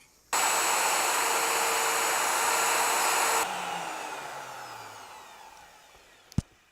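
A woodworking router cuts a groove along a template for a candle box, a loud steady whine that cuts off abruptly and then winds down over a few seconds, ending with a sharp click.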